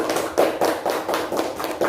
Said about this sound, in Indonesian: Berikan tepuk tangan kepada kelompok Patimura